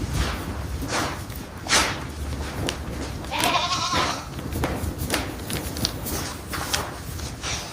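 Young goat kids in a separate nursery pen on a commercial goat farm bleat repeatedly, several overlapping calls near and far against a continuous barn murmur.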